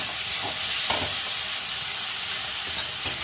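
Onion, ginger and garlic spice paste sizzles and fries steadily in a pan while being stirred, a continuous close hiss with occasional scraping stirs.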